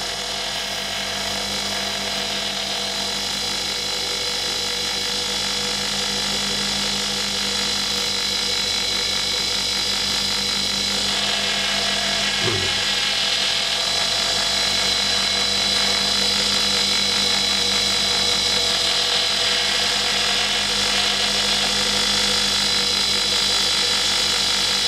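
A wood bowl spins on a lathe while being sanded through the grits, giving a steady motor hum and a continuous abrasive hiss that holds unchanged throughout, close and fairly loud.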